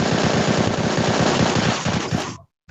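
Rapid automatic gunfire in the shooter game Bullet Angel rattles out as a loud, fast, steady burst of shots that cuts off abruptly into silence near the end.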